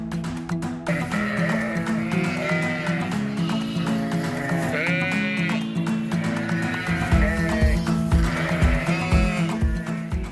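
Sheep on a farm bleat repeatedly and loudly at close range, several overlapping calls rising and falling over a steady low background hum, with a rapid rhythmic thumping joining near the end.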